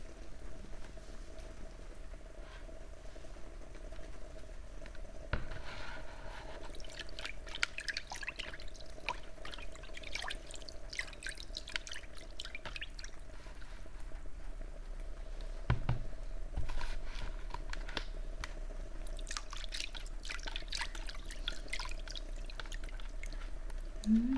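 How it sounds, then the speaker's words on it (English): Water poured and dripping during an ASMR session, with soft patter and irregular drips over a steady low hum, a few louder splashes near the middle, close and quiet with no talk. "let me get the water again"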